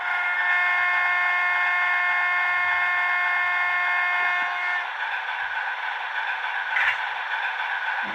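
A secondary horn on an older model locomotive's sound decoder holds a steady, reedy chord for nearly five seconds, then stops, leaving quiet hiss and a faint clank.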